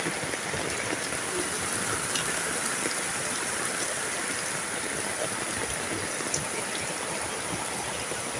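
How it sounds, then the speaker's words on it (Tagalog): Heavy rain pours steadily, a dense, constant hiss of drops striking surfaces close by, with no pauses. "Ang lakas ng ulan eh."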